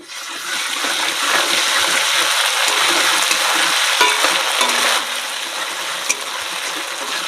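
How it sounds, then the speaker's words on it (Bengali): Ginger paste and cumin paste added to browned potatoes in a pan, giving a loud steady sizzle with stirring scrapes that eases slightly after a few seconds. "এবারে অল্প পরিমাণে আদা বাটা আর জিরে বাটা দিয়ে দেবো"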